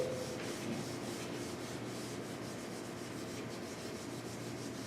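Sandpaper scuff-sands a French polished wood surface with pumice, a continuous close rubbing hiss in steady back-and-forth strokes, with no talk.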